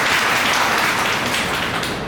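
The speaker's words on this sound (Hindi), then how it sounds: "ताली बजाएंगे सब लोग इनके लिए, जोर से बजाएंगे, जोर से।" A classroom audience at a motivational class claps together, a loud, dense burst of applause that fills the room and tapers slightly toward the end, with no voices over it.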